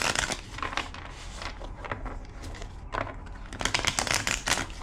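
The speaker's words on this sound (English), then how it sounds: "2 more shuffles." Tarot deck being shuffled by hand, giving quick crisp riffles and papery bursts in close repeated clusters, with no talking.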